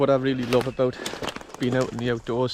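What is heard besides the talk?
birds singing in the countryside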